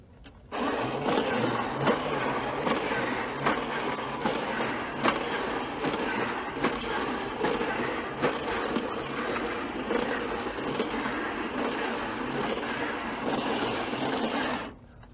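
A toy robot built of springs, wheels and gears walks along with a steady, busy whirring and clattering of its mechanism, running continuously at a fairly close, even level, with no talking.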